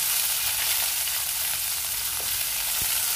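Onions frying steadily in a pan with mustard seeds, curry leaves and green chillies, a continuous close hiss of sizzling oil with faint stirring, no voices.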